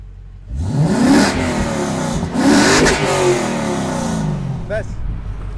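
A car engine revs hard twice as the gas pedal is pressed, each surge climbing and then falling back to a steady idle, heard up close with a brief voice near the end.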